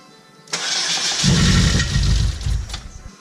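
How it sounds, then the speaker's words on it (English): A car engine cranks and catches after the key has been cycled on a fuel-starved system, opening with a sharp onset, then building to a loud, steady rumble with bursts of revving that ease off near the end; no one speaks. "it sounded like when the car started, it sounded like a click"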